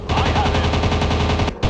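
WW2 fighter plane machine guns firing in a mobile combat game: a rapid, loud, evenly spaced burst of shots that stops briefly near the end, then resumes.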